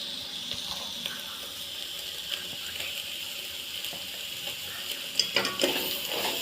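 Hakka noodles are stirred in a pan as chili powder is mixed in. There is a steady hiss of sizzling with soft scraping and rustling strokes, and a few louder clinks near the end.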